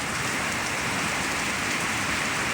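Heavy typhoon rain and wind from Typhoon Uwan lash Iriga City under signal number 4, a dense, steady roar of downpour with no pause, loud and close throughout.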